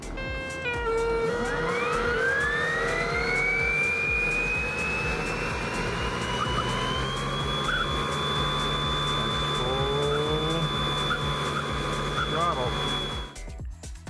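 A 3D printed air compressor fitted with an intake silencer, geared at a 20 to 16 drive ratio, runs steadily and loudly close by with a rising whine that settles into a sustained high tone, cutting off near the end.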